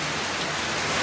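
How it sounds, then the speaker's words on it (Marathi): Steady rain falls outdoors during a monsoon downpour at a home cooking spot, a dense even hiss close by with no pauses and no voices. "छानपैकी पाऊस येऊ राहिला"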